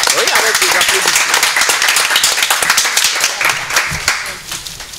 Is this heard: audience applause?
yes